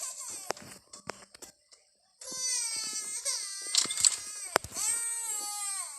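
A baby cries in repeated wailing bursts, loud and close, with short whimpers and pauses between them.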